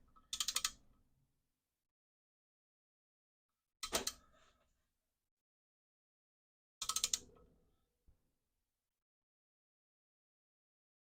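A ratchet tightens the bolts on a Holley intake manifold during a Blazer build. Three short, separate bursts of quick clicking come a few seconds apart, close and clear against silence.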